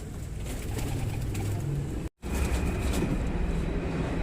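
Madrasi pigeons coo softly in their loft. Low, rolling calls repeat under a steady background hum, with a short dropout partway through. No voices are heard.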